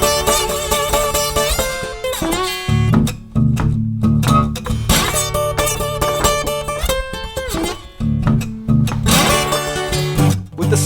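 Guitar in open D tuning strummed and picked with slide, ringing chords and bright sliding notes in a steady blues rhythm, loud and close with no talk.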